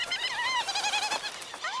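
Seabirds cry near their burrows on Lord Howe Island, a run of loud, wavering, bleating calls that overlap and rise and fall in pitch, heard close and alone.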